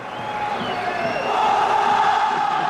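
A packed football stadium roars and chants in the opening moments of a 2001-02 Champions League match between Olympique Lyon and Barcelona, a dense, steady crowd din that swells slightly midway.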